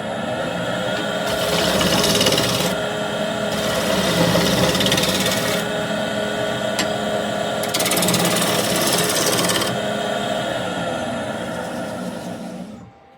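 A wood lathe spins a scrap piece while a spindle gouge trues it up, a loud continuous whirring roar with harsher rasping bursts as the tool bites, fading out at the end.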